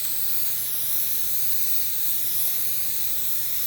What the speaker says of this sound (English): use a better, higher quality of spray glue